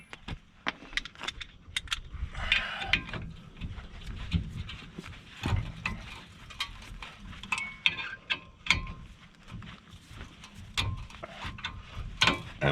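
A hand ratchet is cranked on rusty front brake bolts of a 2014–2020 tenth-generation Honda Civic, giving irregular, close, rapid clicking and metallic knocks.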